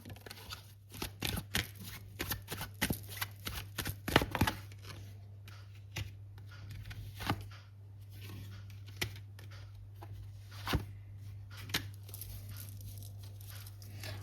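Tarot cards are gathered and handled close by, with quiet irregular taps, flicks and rustles over a steady low hum.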